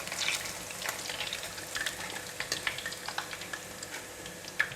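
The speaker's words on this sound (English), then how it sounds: "continue to fry for 7 to 8 minutes or until the bitter gourd is cooked and golden brown" Bitter gourd crackles and sizzles in hot oil in a pan, a steady close frying sound with scattered sharp pops throughout.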